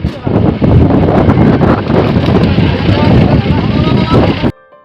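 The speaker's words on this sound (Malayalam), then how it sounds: "എവിടെ തിരിഞ്ഞാലും ഭയങ്കരമായിട്ട് കാറ്റാണ്ട്" Strong wind in Idukki buffets the microphone outdoors as a loud, steady roar and rumble that lasts nearly five seconds, then cuts off abruptly.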